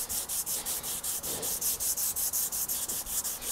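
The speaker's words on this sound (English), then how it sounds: "with the random orbit sander with some 180 grit" Random orbit sander with 180 grit sandpaper working over guitar body wood, a close, continuous buzzing rub with a fast, even pulsing rhythm and no voices.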